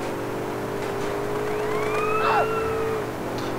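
Police car siren in the video game GTA San Andreas, a wailing tone rising and falling over a steady engine drone, loud and near, with no talk over it.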